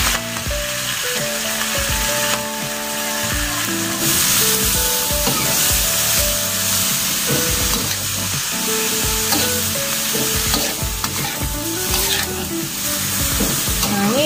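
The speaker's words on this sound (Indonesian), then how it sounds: "Selama kita ngaduk biasanya air keluar ya, karena memang radish ini mengandung air ya" Radish and lap cheong sausage stir-fry in a pan over medium heat, a loud, steady sizzle with spatula scraping and clinks throughout as moisture cooks out of the radish.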